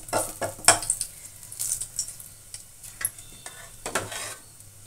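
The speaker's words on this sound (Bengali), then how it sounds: "আর দিয়ে দেবো রসুন রসুনটা থেতলে নিয়েছি" Crushed garlic hits hot oil in a pan while cooking Bengali lau dal, giving a soft, continuous sizzle broken by the scrape and clink of a spoon stirring against the metal, close up and with no talking.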